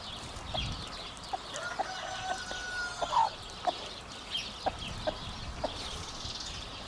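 A broody hen clucks softly nearby in short, irregular bursts, with a few sharper calls standing out against faint outdoor background noise.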